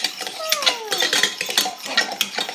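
Utensils clink and scrape against a bowl as frozen cupcake mix is stirred by hand in a home kitchen, a steady run of close, rhythmic taps and scrapes with a voice briefly squealing early on.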